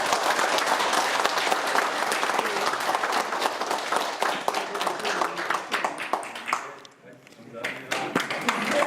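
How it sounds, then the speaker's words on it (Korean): An audience at a policy seminar breaks into sustained applause, dense steady clapping that thins and fades toward the end, with some voices mixed in. "거듭 감사의 박수"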